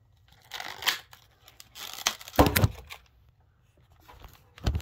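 Packaging torn and crinkled while opening a Pokémon card tin, with close bursts of ripping and crumpling separated by short quiet gaps.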